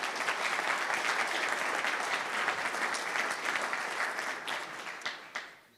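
Audience applause at a breakfast event welcoming the IFRAP president, dense steady clapping from a room full of people that holds strong for several seconds and then tapers off at the end.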